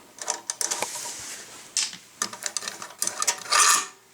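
A screw is turned out of the metal air filter cover on a Briggs & Stratton engine. Close, scratchy metallic rasping comes in short uneven bursts, with a few small clinks and no talking.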